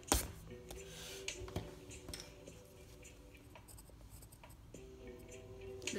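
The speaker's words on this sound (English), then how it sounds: "I'm gonna erase this and draw it again." Pencil scratching across paper in quick strokes, with rubbing passages of an eraser, while a cartoon Goku figure is drawn close up; steady soft scribbling with occasional sharper taps and no talking.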